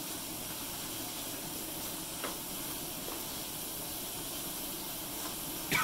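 Onion and garlic fry in a pan, giving a steady, even hiss and sizzle that holds at a constant level throughout, close but soft, with no talk.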